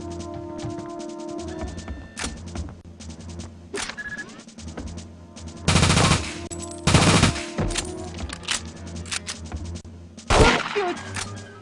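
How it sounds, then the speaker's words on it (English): Meyer TMP submachine gun firing in a video game, with sharp bursts of automatic gunfire interspersed with single shots and clicks over a soft game background, loud and close. "Another new gun, the Meyer TMP, is a submachine gun."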